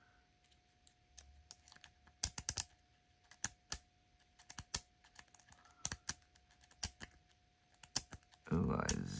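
Lock pick raking the pins of a Brinks high-security lock, a string of sharp, irregular metallic clicks and scratches close up, ending in a burst of louder rustling.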